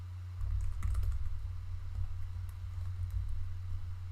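Typing on a computer keyboard during a network routing lab, a quick irregular run of close key clicks over a steady low electrical hum.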